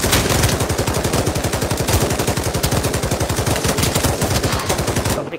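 Sustained fully automatic light machine gun fire in the VR shooter Pavlov, a dense rapid rhythm of close, loud shots running unbroken for several seconds with no talk.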